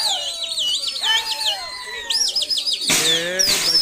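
Racing pigeons (kabootar) are released into the air, with a sequence of bright bird chirps and calls that rise and fall, followed near the end by a louder burst of fluttering and sharp calls.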